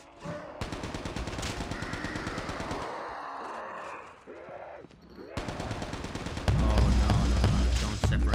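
Rapid automatic bursts of a ray gun firing in Call of Duty Mobile's zombies mode, loud and close, breaking off briefly before resuming heavier, with game effects mixed in.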